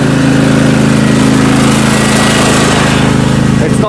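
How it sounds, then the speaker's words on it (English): A 42-inch riding lawn mower engine runs loud and steady near the mic, with a constant throbbing drone throughout and a brief change near the end. "I've got to run this for a bit longer so I can know that the battery's recharged. And so that's why this is really noisy in the background. I've got a 42-inch mower here."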